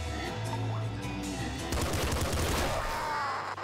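SMG fire in the game Nuclear Throne, rapid bursts of synthetic shots crackling close and loud for a few seconds, mixed with game music and other in-game effects.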